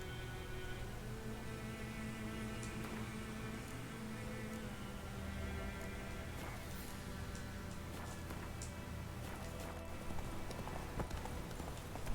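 Rhythmic clip-clop of horse hooves galloping steadily in The Witcher 3 video game, close and continuous for the whole stretch under a faint buzzing insect-like ambience.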